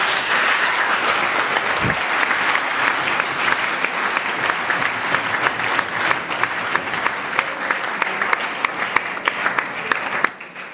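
A large crowd at a public gathering in Matadi, Kongo Central, bursts into loud, sustained applause with dense clapping throughout, then cuts off abruptly near the end.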